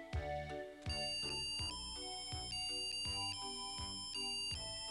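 A Japanese kokeshi doll telegram plays a bright electronic chime melody, a looping ringtone-like tune of clean bell tones with a steady bass pattern, close and alone without voices.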